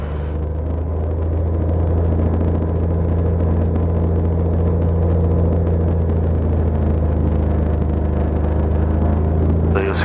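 A Cessna 182 engine holds a steady, loud droning rumble with a strong low hum throughout a propeller check run-up before flight, heard close up as if from inside the cabin, with no break in the sound.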